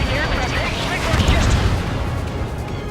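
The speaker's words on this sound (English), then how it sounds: "Hostile has a lock. Target acquired. Strider 1, missile launched." Jet-fighter missile launch and explosion in the combat flight game Ace Combat 7 during a raid on warships, a loud continuous roar and rumble with swelling blasts, radio-style voices talking over it.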